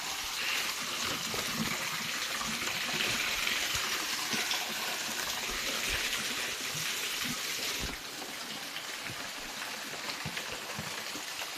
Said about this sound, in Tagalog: May mini falls dito.